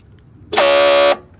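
On a 2009 Honda CR-V, a bad door lock actuator with a stripped gear lets out a single loud, steady buzzing grind for about half a second as the lock engages, with nothing else heard around it.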